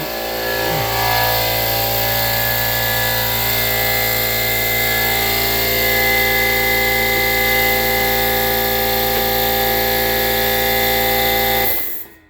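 An air compressor runs in a shop with a loud, steady droning hum for about twelve seconds before shutting off abruptly.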